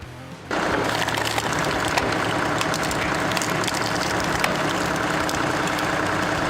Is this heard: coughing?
no